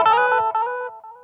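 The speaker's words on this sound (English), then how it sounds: "tape echo." A single guitar note through the tape echo effect of a Line 6 Spider IV 15W amp rings out, with quick, fading repeats trailing off within about a second. No voices are heard.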